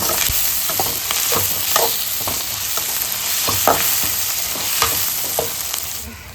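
Ingredients for a chicken gravy sauté in a pan, making a steady, loud frying sizzle broken by repeated scraping stirs of a spatula. No one speaks.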